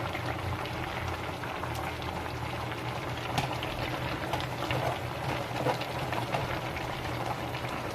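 Chicken tinola soup with malunggay and chili boiling in a pot, a continuous bubbling simmer with scattered pops, close and even throughout.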